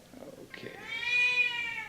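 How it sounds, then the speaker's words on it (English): A four-month-old female kitten gives one rising, drawn-out meow, close and fairly loud, after a few soft, indistinct sounds. "this is a young kitten"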